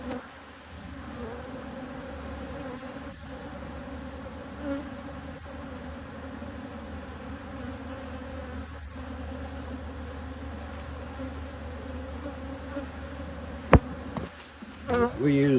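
Honey bees from an opened hive during a hive split, a steady close, dense buzz drone lasting throughout, with faint handling noises and a louder clatter of equipment near the end.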